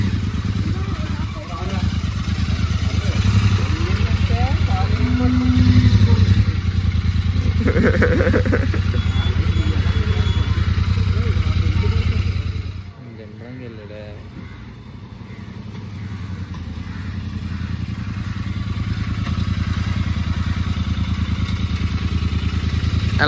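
A Royal Enfield Interceptor is ridden along a city road in Vizag, its engine running steadily with a low rumble and wind noise, then dropping to a quieter idle. People talk over it throughout.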